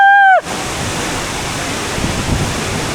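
Sursing waterfall in Nepal roars as a loud, steady rush of falling water, preceded by a brief falling electronic tone at the start.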